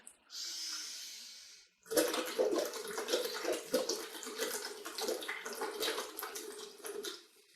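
Breath blown through a drinking straw into water as a breathing exercise: a soft airy hiss first, then a sustained, close gurgle of bubbles that rises and falls for several seconds.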